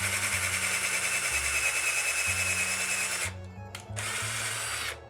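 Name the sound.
drilling a hole in 3/4 inch wood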